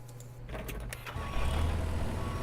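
A tractor engine in the Farmer's Dynasty farming game cranks and catches, then settles into a steady, louder low rumble that continues to the end, with no talk over it.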